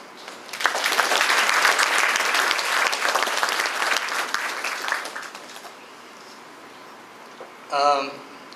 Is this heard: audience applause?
yes